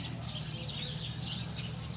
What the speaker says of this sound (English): It's always out here. Sits out here all the time. Little bird.